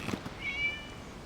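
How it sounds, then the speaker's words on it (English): A single cat meow in the Genshin Impact video game, a short drawn-out tonal cry heard close and clear over a quiet background. "It was just a cat."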